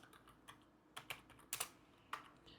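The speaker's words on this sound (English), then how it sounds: "simply click on the search bar that appears and type in Counter-Strike 2" Fingers typing a game name into a search bar on a computer keyboard, about a dozen light, irregular key clicks in quick succession, quiet and close, with no voices.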